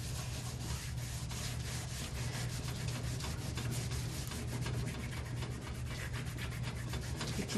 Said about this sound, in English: Some of these areas I'm going to rub in a little bit more.